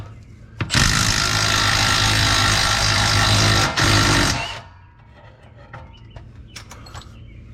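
A loud Milwaukee power tool runs in one sustained burst of about four seconds while loosening a tight part, with a brief dip near the end of the burst before it cuts off into quiet.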